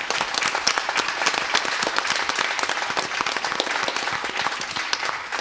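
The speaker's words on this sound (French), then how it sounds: "je crois qu'on peut, on peut applaudir tout le monde" An audience bursts into sustained applause, many hands clapping in a dense, even patter that holds steady and loud from start to finish.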